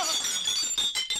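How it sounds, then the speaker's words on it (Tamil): Glass smashes in a comedy film scene, giving a bright shattering crash with tinkling fragments that ring on briefly, heard on its own without speech. "வாசப்படி நினைச்சு கண்ணாடி நொறுக்கி தள்ளிட்டாங்களே"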